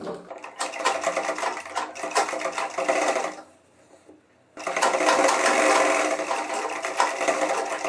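A sewing machine stitching the back pocket of a pair of trousers runs in a loud, fast, continuous whir, pauses briefly, then resumes for several more seconds.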